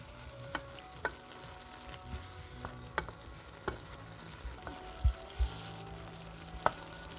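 Cod stew sauce cooks over medium heat in a pan with a low, steady bubbling sizzle, broken by a few sharp clicks and knocks of a utensil against the pot.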